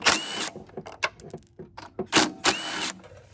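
A 10mm wrench or socket works two nuts loose on the air box of a Honda Harmony mower, producing sharp metallic clicks and ratcheting bursts in short uneven groups with pauses, close by.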